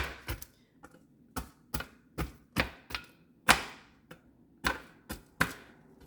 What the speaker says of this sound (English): I simply chop to my desire.